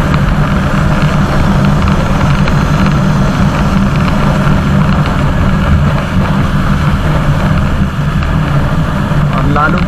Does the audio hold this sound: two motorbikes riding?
yes